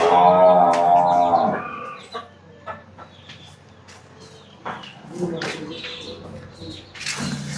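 Cattle at a sale of Jaffrabadi and Gir cows, a loud low moo at the start followed by scattered farmyard sounds, clucking fowl and people talking in the background.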